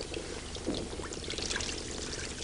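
White liquid poured into a tray that sits above a loudspeaker, a steady close splashing pour lasting a couple of seconds with no talking.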